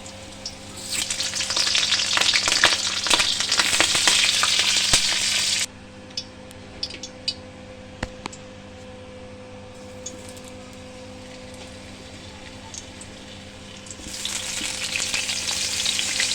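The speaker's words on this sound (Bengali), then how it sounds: "এখানে আলুগুলো আমি একে একে দিয়ে ভালো করে ভেজে নেব।" Potato pieces frying in hot oil in a pan for khichdi: a loud dense sizzle at first, dropping abruptly to a quiet background hum with a few clinks, then the loud sizzle returning near the end.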